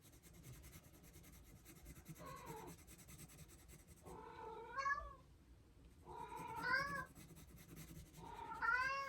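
A house cat meowing insistently indoors, several drawn-out rising meows growing louder toward the end, close by over a faint scratchy background of pencil or brush on paper.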